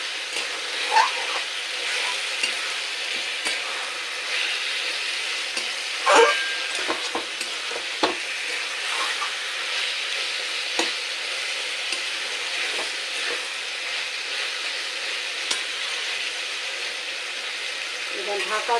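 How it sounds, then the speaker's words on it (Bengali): Marinated chicken for a Bihari-style curry sautéing with spices in a covered pan over low heat, giving a steady close sizzle with occasional stirring scrapes and clinks throughout. "আঁচ কম করে ঢাকা দিয়ে মশলার সাথে চিকেনটা খুব ভালো করে কষিয়ে নিতে হবে।"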